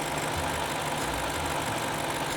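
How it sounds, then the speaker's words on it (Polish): A BMW engine idles with a cylinder 5 misfire and noticeable vibration, giving a steady, close, rough rumble with a faintly uneven low pulse throughout and no voices. "Ale są takie wibracje na silniku."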